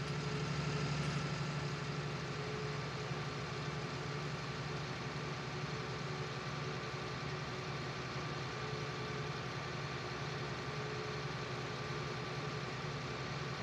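A tractor engine idles steadily in Farming Simulator 19, a constant low rumble with a broad hiss on top, unchanging for the whole stretch with no voices.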